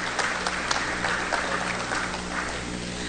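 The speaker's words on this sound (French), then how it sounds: "Je vous demande de les applaudir," Audience at an international forum on state reform applauding the speakers and moderator, a steady wash of clapping heard at close range and lasting throughout.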